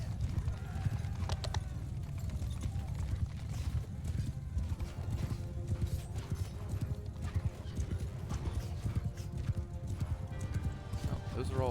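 Many horses gallop in the Bannerlord video game, with dense, continuous clip-clop hoofbeats, occasional whinnies and clashing game noise beneath a voice talking throughout.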